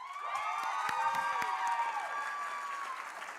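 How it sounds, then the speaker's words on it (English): A gathered crowd claps and cheers for an award winner at an exploration award announcement, a dense sustained ovation with whoops and high-pitched shouts, loud and continuous throughout. "I like that cheer."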